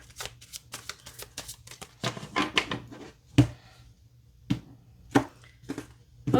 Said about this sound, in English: let's cut the deck